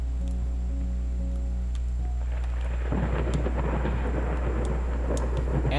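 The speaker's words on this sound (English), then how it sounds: "And it's thundering." Thunder rumbles in the horror video game Layers of Fear, building into a loud rolling crash over rain, following a sustained low droning ambience with no voices.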